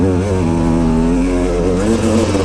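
A dirt bike engine revs hard in low gear near a mountain summit, a loud, continuous buzzing drone with the pitch climbing and falling slightly as it accelerates.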